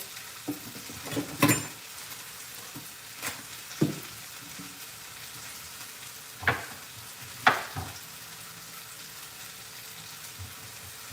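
Lamb chops browning in a pan give a steady, soft sizzle, broken now and then by sharper clinks and scrapes of stirring and pan handling close by, with no talk.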